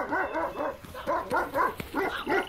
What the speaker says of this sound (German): kümmern Sie sich nicht um die Hunde. Die mögen nur den Geruch von feinen Leuten nicht.